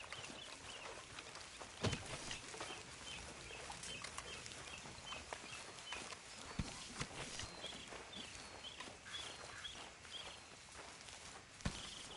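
Horses walk in Red Dead Redemption 2, their hooves clip-clopping in an uneven rhythm over a busy outdoor ambience with faint birds and fowl, plus a few sharper knocks.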